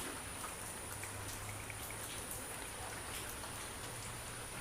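Steady rain falls on potted hoyas and orchids grown outdoors, a dense, even patter of drops with a soft wash throughout, moderately faint and continuous with no voices.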